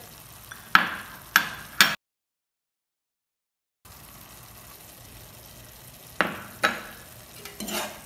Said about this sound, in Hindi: अब हमें इसे अच्छे से मिक्स करना है।